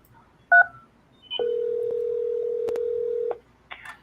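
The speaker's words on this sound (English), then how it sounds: "If you know the 3-digit extension of your calling, you may dial it at any time" A short telephone keypad tone, then a longer steady dial-type tone, clear and close, with brief faint clicks around them and no talking.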